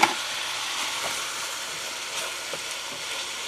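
Carrots and porcini mushrooms stirred into sizzling onions and bacon in a hot pan, a steady broadband frying hiss with faint scrapes of the spoon, close and continuous without talk.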